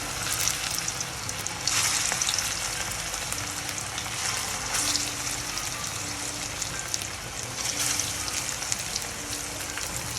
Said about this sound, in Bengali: মাছগুলো দিয়ে দিলাম, লাল লাল করে ভেজে নিব।